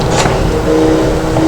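A supercar engine in the racing game BeamNG.drive drones steadily and loudly throughout, a continuous mechanical hum with a brief rising whine near the start and no talking.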